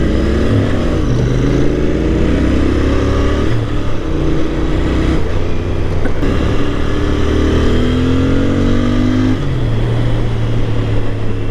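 A 2024 Royal Enfield Interceptor 650 twin-cylinder engine runs steadily while being ridden, with loud continuous drone, rising and falling revs through gear changes and wind noise throughout, no talking.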